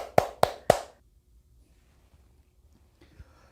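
Three sharp hand claps in quick succession, close and distinct, followed by near silence with a faint shuffle at the end.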